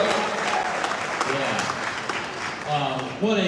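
Applause at a campaign rally, broad and steady from a crowd for the whole stretch, with an amplified speaker's voice carrying over it toward the end.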